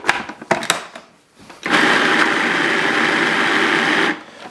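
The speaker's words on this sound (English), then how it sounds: "we're just gonna puree it up until it's smooth" A Cuisinart food processor pureeing ravioli filling with egg and grated Parmesan runs as a loud, steady whirring drone for about two and a half seconds, preceded by a few clattering knocks as it is set up.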